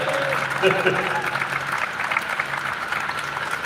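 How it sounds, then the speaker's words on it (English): Crowd at a Liverpool protest rally breaking into a round of applause, continuous clapping heard under a speaker's voice that keeps talking over it. "Give him another big round of applause."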